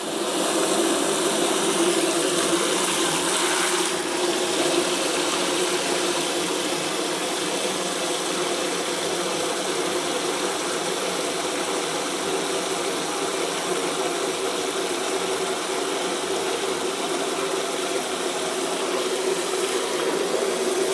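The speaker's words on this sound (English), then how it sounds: "So we'll fill up the bucket full of water." Hot water from a tap pours steadily into a bucket, a constant close rushing sound.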